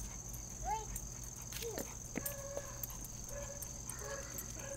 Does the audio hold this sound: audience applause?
no